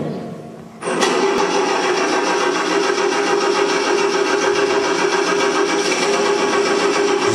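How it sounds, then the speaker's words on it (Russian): An engine with a faulty ignition catches abruptly after a brief quiet moment, then settles into a loud, steady mechanical drone with a sustained tonal hum. "Зажигание явно раненое."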